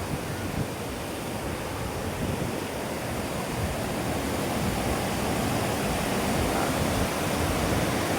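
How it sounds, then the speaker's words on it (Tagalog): A mountain stream flows in a steady, dense rush of broadband water noise, continuous and close, holding an even level throughout with no talk over it. "Ito ay batis."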